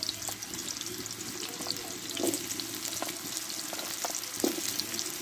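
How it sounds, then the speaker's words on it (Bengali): Pumpkin pieces sizzle and fry in hot oil in a pan, a soft, continuous crackle with a few louder stirring clunks and scrapes scattered through. "দেখো এবার কুমড়োগুলো দিয়ে দেবো আমি, দিয়ে কুমড়োটা ভালোভাবে কষে নিব।"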